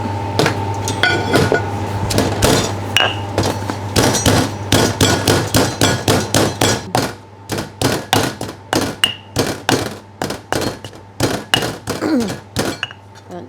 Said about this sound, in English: we put in the mortar stone and we grind it.